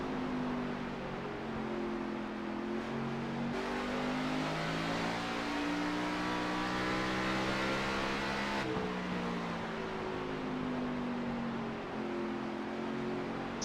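Xfinity Series stock cars in a Richmond short-track race in a racing video game, with a loud continuous engine drone that rises and falls in pitch as the cars throttle on and off through the corners, with no talking.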